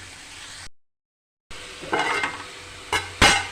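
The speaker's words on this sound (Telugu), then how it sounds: "మన ఉల్లిగడ్డ పచ్చిమిర్చి బాగా వేగినాయి ఆయిల్లో" Onions and green chillies frying in oil for an egg curry, a soft sizzle that cuts out briefly, then returns with louder stirring scrapes and a couple of sharp spoon clinks against the pan.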